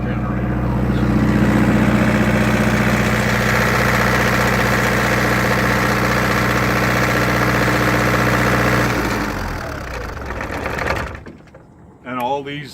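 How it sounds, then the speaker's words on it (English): A Yanmar generator runs steadily after a cold start, a loud even hum with a low mechanical drone that holds for about nine seconds, then winds down and stops, followed by a few faint knocks. "Never had a complaint from a neighbor about the generator noise."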